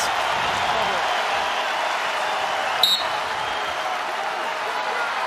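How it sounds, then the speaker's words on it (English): Big Ten college wrestling crowd at Carver-Hawkeye Arena in Iowa cheering and rising to its feet, a steady broad roar of the packed arena with a brief whistle-like burst midway. "This Carver crowd to its feet."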